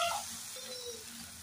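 Onion frying with ginger-garlic paste in a pan, a steady close sizzle throughout with a brief stir near the start and no voices.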